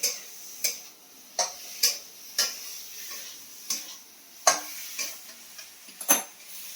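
Potatoes and spices being stirred and fried in a pan, with a steady rhythm of sharp scraping strokes about every half second over a faint sizzle; no talking.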